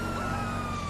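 A police car siren rings out in a video game as a steady, moderately quiet electronic tone over a low engine rumble. It lasts for a brief moment.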